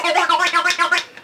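A voice imitates a chainsaw with a rapid, gurgling, buzzing rattle that pulses steadily for about a second before trailing off.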